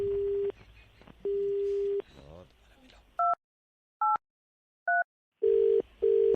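Electronic phone tones after a call is hung up: a repeating steady beep, then a few short two-note blips, and the beeping resumes, with a voice briefly heard between.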